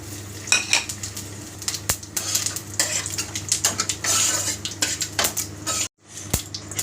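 Dry red chillies, whole cumin and sesame seeds crackle in hot oil as a tempering, mixed with clinking utensils and pan clatter, close by, with a short quiet gap near the end.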